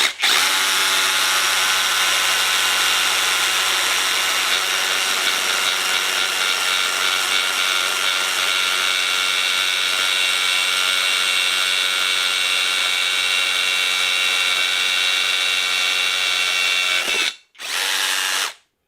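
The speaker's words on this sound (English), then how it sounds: "I'm letting the drill itself do the hammering" An Excited Work 21V rotary hammer drill bores into cinder block with a loud, steady, high-pitched whine and rattling hammer action held for about seventeen seconds, then stops abruptly and gives a short final burst.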